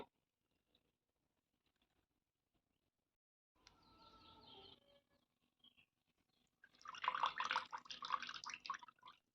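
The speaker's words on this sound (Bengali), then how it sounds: "এবার এটাই কাপড়ে ঢেলে রসটা বের করে নেবো এটা চিপের রসটা পুরো বের করে নেব" Beetroot pulp squeezed through cloth at home, its juice dripping and spattering out in a short faint burst, then a louder, denser wet trickle and splatter toward the end.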